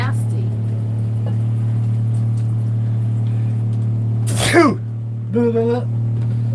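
A single sharp sneeze cuts through a steady low hum, followed shortly by a brief voice, close to the listener.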